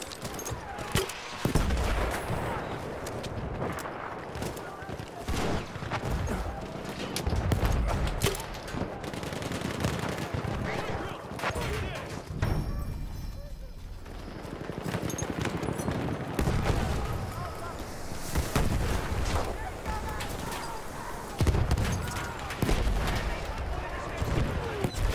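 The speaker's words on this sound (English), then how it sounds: "Fucking mortars." Mortar and gunfire in a First World War shooter game on the Argonne Forest map, with repeated explosions and dense rifle and machine-gun volleys throughout, a player's voice talking over the din.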